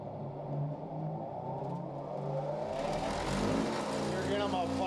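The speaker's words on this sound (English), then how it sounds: "Now I'm going to go ahead and buff the tool." A buffing wheel spins against a tablet press punch tool coated in white compound, giving a steady mechanical whir with rising hiss and squeal as the steel meets the wheel, loud and close throughout.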